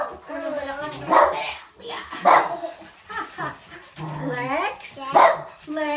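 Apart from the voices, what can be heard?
dog Brandy barking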